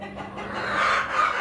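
Farm hens cackle noisily after one has laid an egg, a short burst of close, rising clucks lasting just over a second.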